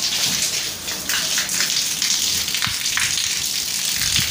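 Steady rain falls outside a house, a dense hiss of drops pattering on surfaces, even and continuous at moderate loudness with no voices.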